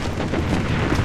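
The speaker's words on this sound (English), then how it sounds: "Missile bombardment on its way." Missile bombardment explosions in the mobile shooter game BloodStrike: a continuous heavy rumble of blasts rolling together, loud and unbroken across a short moment.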